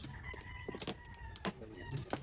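Chickens cluck and a rooster crows on a farm, with several short calls scattered at irregular intervals over steady background noise.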